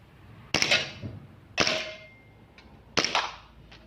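Three sharp snapping shots from an M1911 toy pistol during test firing, spaced about a second apart, each a crisp close crack with a short rattle of the slide.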